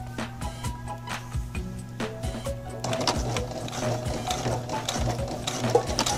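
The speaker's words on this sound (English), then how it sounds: "We just went about 4 stitches straight, and now it's going its first zigzag over." A home sewing machine runs a blind hem on pants, a steady fast mechanical whir of needle strokes that grows denser and louder partway through as it shifts from straight stitches to a zigzag, with no talking.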